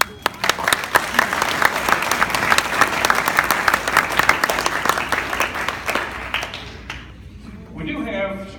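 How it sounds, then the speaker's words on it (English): Loud, dense applause from the audience at a DARE graduation ceremony for the students, steady clapping for about seven seconds before tapering off, with faint voices as it ends. "I'd like to give the students a round of applause."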